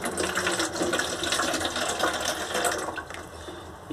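Liquid compost from a detergent-bottle composter is poured into a garden planter, giving a steady, close splashing and gurgling flow that eases slightly near the end.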